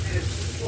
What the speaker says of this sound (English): Onions simmering.